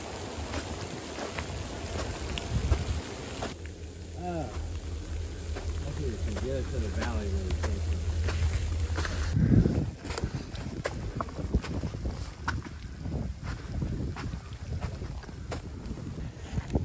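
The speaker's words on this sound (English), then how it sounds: "It is coming in windy, snowy, and cold" Wind gusting on a snowy, cold winter trail during a multi-day backpacking trip on the Appalachian Trail in Pennsylvania, a steady broadband rush with buffeting against the microphone, continuous throughout with some faint voices underneath.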